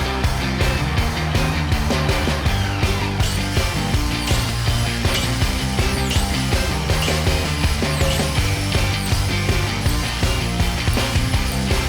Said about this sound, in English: then cut all the timber to size